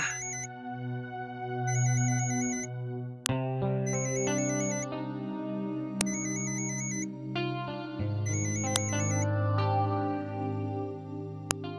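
A mobile phone plays a melodic ringtone, a repeating electronic tune with a steady rhythm that keeps going, clear and unaccompanied by any talk.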